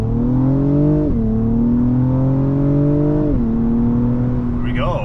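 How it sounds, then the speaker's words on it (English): Acura TLX Type S in Sport Plus mode accelerating hard from 0 to 60, its engine note climbing loud and close through rising revs with two quick upshift dips, ending in a brief high whine. "let's go ahead and switch it into Sport Plus mode and do a quick 0 to 60 for you"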